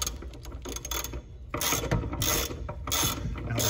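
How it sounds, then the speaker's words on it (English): A socket ratchet tightens a regulator seat in a series of quick, close mechanical clicks. Short bursts of ratcheting are separated by brief pauses, and no voice is heard. "we can use our socket to finish tightening it up."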